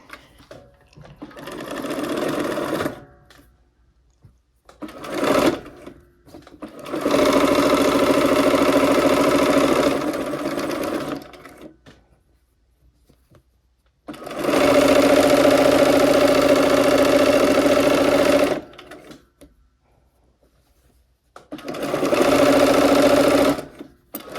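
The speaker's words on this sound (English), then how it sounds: "And now we will sew this row together." Sewing machine stitching a quilt row together, running in several separate bursts of steady mechanical whirring with short quiet pauses between them, close and fairly loud.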